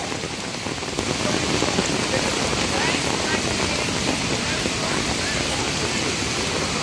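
Floodwater pouring over Layawan Bridge in Oroquieta City, a loud, steady broadband rush of water that fills the whole stretch, with voices faintly present beneath it.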